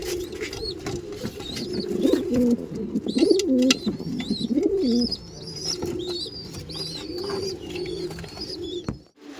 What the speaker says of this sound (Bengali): আসুন একটু এই পায়রাগুলো রিলিজ করে দিই।